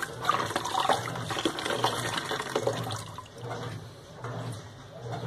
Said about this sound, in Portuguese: A água já tá saindo limpa,